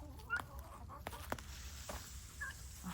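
A few soft, brief clucks from chickens inside a coop, faint and close, with quiet rustling between them.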